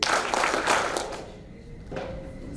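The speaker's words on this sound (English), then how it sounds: "I want everyone to clap, and it should be one sound" A group of people at a school leaders' gathering claps in unison on cue, a few sharp collective bursts up front that fade, then another short clap near the end.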